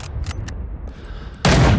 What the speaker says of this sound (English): next weapon here, which is the Mosin-Nagant 9130 rifle.